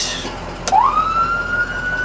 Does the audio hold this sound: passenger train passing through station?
no